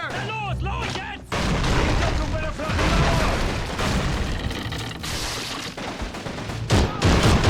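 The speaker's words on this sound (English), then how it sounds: "Those mortars aren't very far away." Mortar and artillery blasts in Call of Duty 3 during a town battle, loud dense booms and rumbling fire rolling continuously, with a speaking voice over the din.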